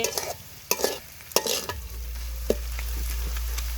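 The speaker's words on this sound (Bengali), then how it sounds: "দেখেন আমি কি সুন্দর করে লোটটা শুটকিটা ভেজে নিছি" Dried Bombay duck fish (loitta shutki) frying in a pan, with sharp scraping and stirring clatters over a soft sizzle, and a low steady hum setting in partway through.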